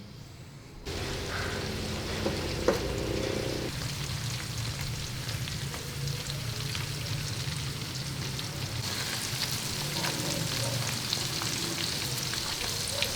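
Pork fat sizzles and fries in a pan over a burner, a steady loud crackling hiss with scattered pops that goes on throughout, heard close up with no talk.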